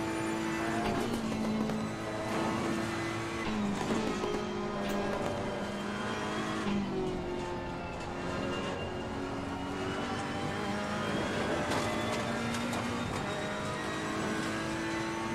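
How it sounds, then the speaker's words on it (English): Ferrari race car engine in the Assetto Corsa Competizione racing game, a loud, continuous close-up engine drone with shifting pitch as it revs and changes gears, heard alone with no talking. "Yeah, the Ferrari sounds really nice."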